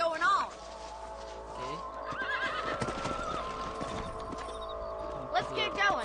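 Horses whinny and clop their hooves in the Red Dead Redemption western video game, a loud neigh at the start and again near the end with steady hoofbeats and game sounds in between.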